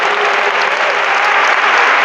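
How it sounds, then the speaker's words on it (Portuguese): A church congregation applauding the Lord after a prayer, loud, thick and unbroken clapping filling the room at a steady level. "aplauda o Senhor"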